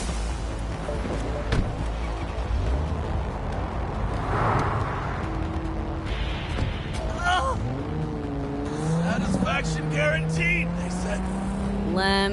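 A car drives through the city in Cyberpunk 2077, its engine rumbling and rising in pitch through gear changes, with brief tire noise and a sustained whine late on, under speech and game effects.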